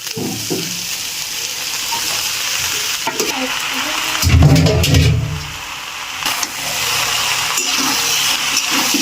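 Chicken pasta with egg being stir-fried in a pan, a loud close sizzle with spatula scrapes and clatter, one brief louder rumbling burst midway, and no talking.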